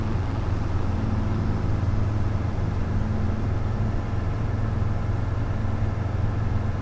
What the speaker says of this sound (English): turn the tractor noises down